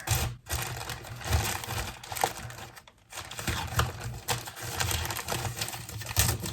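Parcel package being opened, loud crinkling and rustling of wrapping in irregular bursts with brief pauses, close up and continuous.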